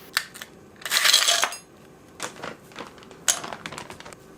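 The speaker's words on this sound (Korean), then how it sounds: "얼음도 가득 넣어줍니다." Ice cubes clatter and tumble into a cup in a few quick bursts, with separate clinks in between.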